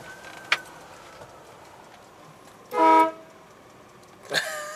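A car horn sounds one loud, short honk in the middle, set against a quiet background with a few faint clicks before and after.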